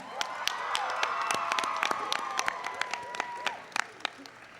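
Audience applause and cheering at an astronomy night event at the White House, a sustained wash of clapping with sharp individual claps and whoops, moderately loud and steady before tapering slightly near the end.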